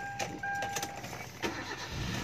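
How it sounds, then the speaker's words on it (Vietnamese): A 2010 Kia Carens with a 1.6 engine cranks and catches, a short starter whir turning into a steady running engine, close by with no talk over it. "Để nhẹ phát máy nổ rồi."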